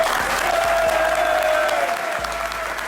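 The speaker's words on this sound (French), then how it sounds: "je vais vous demander de vous applaudir" Steady applause from a studio audience at a live Olympique Lyonnais club talk show, dense clapping sustained throughout at even loudness, with a faint tone running beneath.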